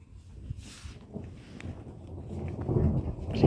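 Thunderstorm with rain falling over a garden, a soft low rumble swelling steadily and growing louder toward the end over a constant patter of rain, with no voices.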